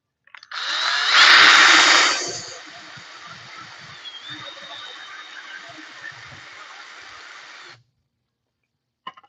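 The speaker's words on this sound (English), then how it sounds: "let's get this sand dollar drilled" A power drill boring a hole through the center of a sand dollar in a craft studio: a steady close whine that swells loudly at first, then settles into a lower, even drone for several seconds before stopping.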